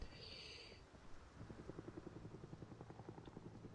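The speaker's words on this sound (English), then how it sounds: "Because there's a helicopter flying around." A helicopter flying around on a road trip through Knox County, its rotor thumping in a fast, regular beat that emerges after a brief hiss, faint and distant.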